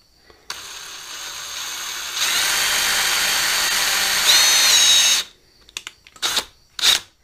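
A mini lathe runs while a drill bores a hole into the spinning workpiece, a steady whirring drone that rises in pitch and loudness midway, then stops abruptly, followed by a few short bursts of machining and faint clicks.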